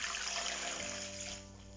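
About 1.25 liters of water pours in a steady, continuous stream onto 2 kilograms of corn masa dough in a deep bowl, close and unbroken, with no voices, while Veracruz-style tamale dough is set to soak.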